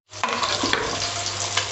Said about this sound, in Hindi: अब ये मैंने इसके अंदर डाल देंगी और इसको हिला लेना